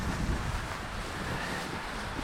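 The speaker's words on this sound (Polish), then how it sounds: "Pogoda jest przeurocza dzisiaj, deszcz i wiatr dalej." Steady, loud wind roars across the microphone on a rainy mountain hiking trail near Skalny Stół and Malá Úpa, a continuous broadband rush with no pauses.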